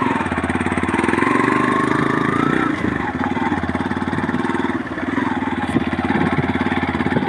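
A motorcycle engine pulses loudly and close on a hilly road, its rhythmic throb rising and easing as the rider climbs, with wind rush around it.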